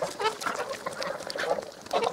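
Geese and ducks on a small farm honk and quack in a steady, overlapping chorus of repeated calls, fairly close and loud, with no talking.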